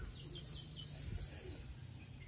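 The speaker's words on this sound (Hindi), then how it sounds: "ये दोनों गंदे कबूतर इन्हीं की वजह से ना बाकी के सारे कबूतर उधर जाकर बैठ गए" Pigeons coo faintly at a distance over a low rumbling background, with a few soft chirps and brief wing sounds, and no talk during the moment.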